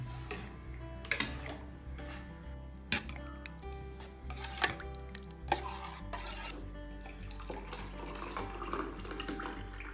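Buttermilk mixed with aloe vera being stirred in a vessel, a run of close scraping and clinking strokes with wet swishing, irregular in rhythm and moderately quiet.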